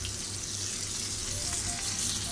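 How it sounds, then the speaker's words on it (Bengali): Loitta fish, also called Bombay duck, deep frying in hot oil with a dense, loud, unbroken bubbling sizzle that stays even throughout. "লইট্টা মাছগুলা বা লটিয়া মাছগুলা ভেজে নিলাম"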